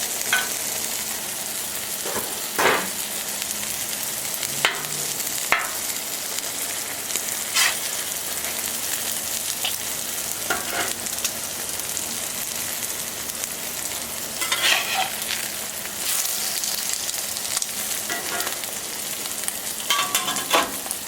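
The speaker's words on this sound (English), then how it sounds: "Let's go ahead and see if we can get the eggs out of here. Give them a little flip." Eggs fry on a Camp Chef Sidekick griddle with a steady sizzle, broken by scraping spatula strikes as they are lifted and flipped; no talking.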